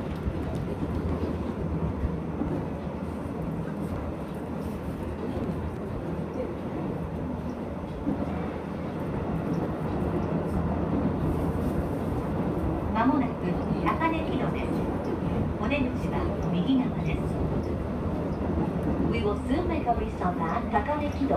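A Shin-Keisei electric train rolls between Keisei-Tsudanuma and Takanekido with a steady interior rumble and motor hum. An onboard announcement voice speaks over it throughout.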